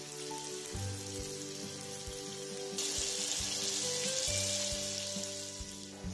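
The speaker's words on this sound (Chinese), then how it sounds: "煎至两面金黄就把它端出来备用" Sauced meat sizzles in a hot pan as it fries golden on both sides for a one-pot braise, a steady close crackle that swells midway, with soft background music underneath and no talk.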